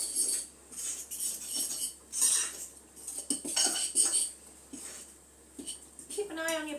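Corned beef hash being stirred and mixed in a pan at home, with repeated scraping and clinking of a utensil against the pan in irregular bursts, close and moderately loud, with a brief voice near the end.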